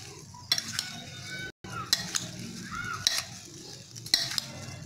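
Apple pieces being stirred into a fruit chaat, a few soft scraping mixing strokes with light clinks of a spoon against the bowl, close and quiet with no talk.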